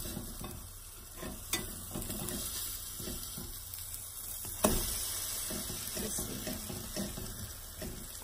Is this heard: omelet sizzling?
yes